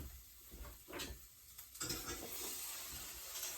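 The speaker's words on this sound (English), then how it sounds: "I'm gonna go stir my mushrooms a second" Mushrooms cooking in a pan, stirred with a few short scrapes and clatters before a soft steady sizzle settles in; quiet and close, no talking.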